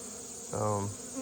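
Honey bees buzzing around a hive with white-powdered supplemental feed nearby, a steady near hum swelling briefly as one bee passes close, over a constant background drone.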